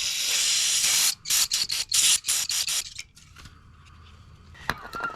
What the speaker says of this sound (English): We'll just give it a good spray.